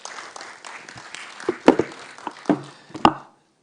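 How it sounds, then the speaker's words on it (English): Scattered applause from a demo day audience, a few sharp claps building into a short, thin burst close by that fades out within seconds. "One more time, a round of applause."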